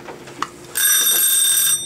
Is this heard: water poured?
no